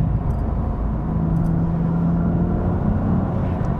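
A BMW M3/M4 (S55 engine) with an EPA-compliant aftermarket exhaust idles with a deep, steady exhaust burble, a low constant rumble close by with a faint whine over it.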